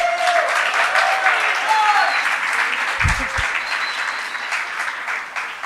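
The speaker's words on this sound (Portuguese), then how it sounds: "Você pode dar uma salva de palmas para esse louvor maravilhoso?" Church audience clapping after a worship song at a Sunday evening service, dense sustained applause filling the room at steady volume throughout, with a brief low thump midway and a voice faintly audible underneath.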